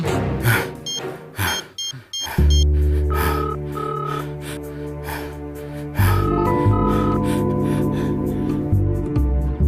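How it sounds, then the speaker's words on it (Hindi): A phone being dialed to place a call in a dubbed South Indian action film scene: a few quick, high electronic keypad beeps in the first two seconds, then loud dramatic background music takes over. "लगा फोन।"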